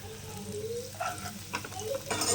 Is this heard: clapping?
no